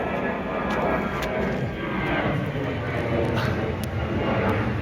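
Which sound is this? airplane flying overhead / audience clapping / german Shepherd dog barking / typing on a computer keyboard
airplane flying overhead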